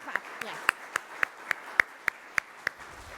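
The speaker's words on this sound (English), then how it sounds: "We'll clap, yeah." A few people clap slowly and unevenly at a grand opening ceremony for a behavioral health center, about ten separate, distinct hand claps spaced roughly evenly, fairly close and moderately loud.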